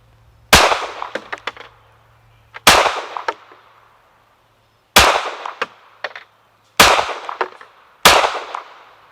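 Five loud, separate pistol shots from a Tisas PX9 Carry at an outdoor range, each a sharp crack with ringing echo, spaced about two seconds apart with quiet gaps between.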